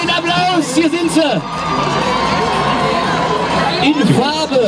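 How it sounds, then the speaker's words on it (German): A festival crowd at the Sachsen-Anhalt-Tag in Gardelegen cheers and whoops as radio hosts take the stage, a loud continuous mix of shouting and applause with an amplified voice speaking over it. "Fetten Applaus, hier sind sie."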